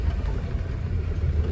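Cars coming head-on along a narrow rural road between maize and wheat fields, a low, steady engine rumble close by with no pauses.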